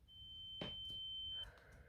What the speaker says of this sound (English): The ringing in the ears does go on for a little bit.